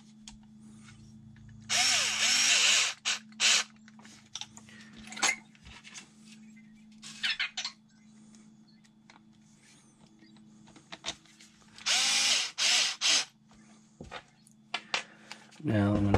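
A power drill drives long screws into the middle plate of a HoBao MTX RC car, sounding in two loud whirring bursts of about two seconds each, with shorter zips and small tool clicks between them.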